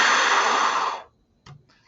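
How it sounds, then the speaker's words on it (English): Breathy, hissing rush of air blown across the mouth of a bottle, a steady broadband whoosh for about a second that cuts off, followed by a brief softer puff. "this raw noise that is the sound of air blowing over the"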